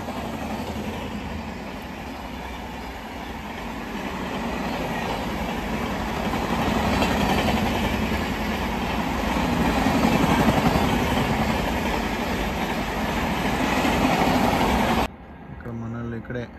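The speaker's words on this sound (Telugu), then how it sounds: "ఇటు ట్రైన్ వస్తుంది." A train runs along a railway track nearby, its heavy rumble and rattling swelling steadily louder as it passes close, then dropping away abruptly at the end.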